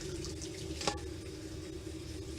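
Tap water runs steadily into a kitchen sink while pasta is drained, a continuous low rushing with one brief clatter partway through.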